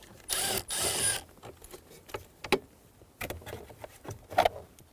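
A screw is backed out of the foot vent under the dash of a 2011-2014 Hyundai Sonata: a couple of loud, rustling tool bursts, then scattered light ratcheting clicks and small knocks, close up, with no one talking.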